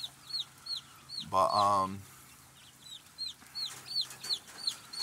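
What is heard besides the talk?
chicks and hens clucking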